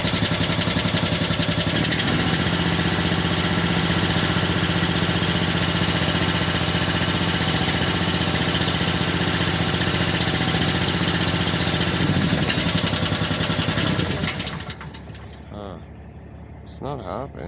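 A small engine, just started on choke, idles roughly with a loud uneven clatter for most of the time, then cuts out abruptly, leaving a quieter pause broken by a few brief voices.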